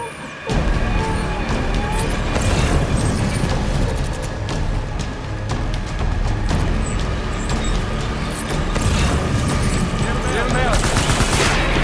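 Soldiers open fire in Death Stranding, with sustained loud automatic gunfire and crashing impacts running continuously over a dense battle backdrop, while voices are heard amid the shooting.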